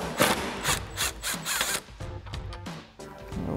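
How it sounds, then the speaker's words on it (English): An impact driver fitted with a T55 Torx bit hammers in repeated short bursts, backing bolts out of a Jeep Wrangler JL during a Teraflex spare tire carrier install, loud and close with pauses between bursts. "We've got our T55 Torx bit on our impact."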